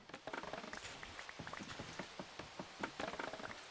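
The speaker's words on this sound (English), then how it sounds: "What happens if the rain stops?" Rain in the Minecraft video game patters steadily as dense, irregular drops on a surface, moderately loud and continuous, with no voices.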